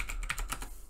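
Rapid clicking keystrokes on a computer keyboard, several quick taps in an irregular rhythm, close and fairly quiet, with no voice over them.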